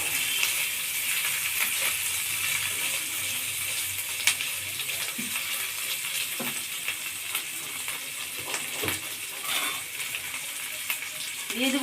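Spice paste frying in hot oil until reddish for a fish-head and potato dish, a constant loud hiss and crackle with occasional stirring scrapes and light clinks, steady throughout, no speech.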